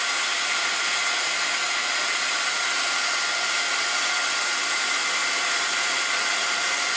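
A heat tool melting embossing powder gives a loud, continuous blowing hiss, broad and unchanging like a hairdryer, running the whole time with no voices.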